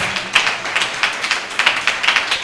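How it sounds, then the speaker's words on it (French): A church congregation claps in a steady rhythm, with sharp even beats several times a second at a moderate, fairly close level and no voices on top. "Alors si vous êtes là, acclamez très très fort"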